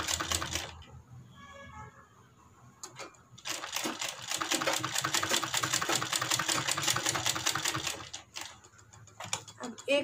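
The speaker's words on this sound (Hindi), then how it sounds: "तरीके से इसके ऊपर सिलाई को लगाते जाना है" A sewing machine stitches a kurti in a long, fast, even run of rapid needle clatter, with shorter bursts at the start and end. A voice speaks quietly in between.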